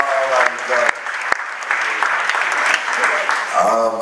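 A church congregation claps for Jesus during a French-language sermon, with loud, dense applause continuing for a few seconds while a preacher's voice and shouts from the crowd rise over it.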